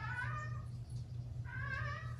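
A cat meows twice indoors, two drawn-out tonal cries separated by a short pause, over a low steady background hum.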